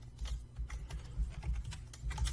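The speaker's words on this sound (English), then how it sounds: "So you can change either by clicking the arrows or typing in a number in the box." Typing a number into a box on a computer keyboard, with a run of quick, irregular key clicks that sound close and fairly quiet, with no talking.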